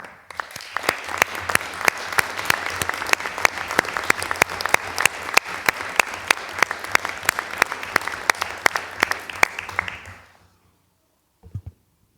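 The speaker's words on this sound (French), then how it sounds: "Je les en remercie et je voudrais qu'on les applaudisse collectivement." A municipal council meeting audience gives a sustained round of applause for about ten seconds, dense and even, then stops abruptly, leaving a brief pause and a couple of faint knocks.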